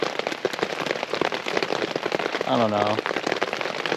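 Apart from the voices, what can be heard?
heavy rain falling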